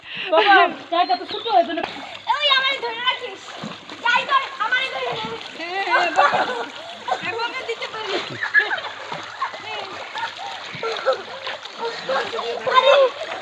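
Children splash while swimming in water, with playful splashes and sloshing under near-constant excited chatter and adult encouragement.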